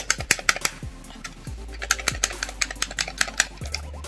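Clacky buttons on a pro-style Switch controller are pressed in quick, irregular clicks, close and crisp, with a few heavier thuds mixed in and no talking.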